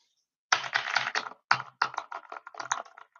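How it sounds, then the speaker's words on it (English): Rapid computer keyboard clicks from someone typing, close and fairly loud, coming in dense bursts with short pauses between them and no voices. "the keyboard click sound high"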